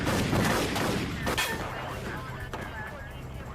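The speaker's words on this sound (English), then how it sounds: "The driver fired a shotgun blast at Grogan." Gunfire in an FBI shootout in Dade County, with a point-blank shotgun blast fired by a driver trapped in a surrounded vehicle. A dense volley of loud, close shots with sharp bursts overlaps and carries under narration.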